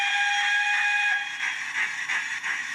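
Short steam whistle from a sound-fitted Accurascale J68 model locomotive, a steady high tone with harmonics that holds for about a second and then gives way to soft hiss and chuffing texture, heard close and alone.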